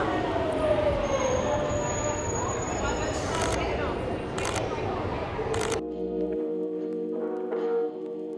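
A London Underground Jubilee Line train pulls into a station, its rumble and squeal heard close under the platform ambience. Camera shutter clicks sound several times, and the roar cuts off near the end to a quieter hum.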